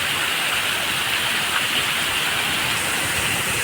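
Heavy rain pours down in a constant loud broadband roar, dense and unbroken throughout, with no distinct thunderclap standing out and no talking.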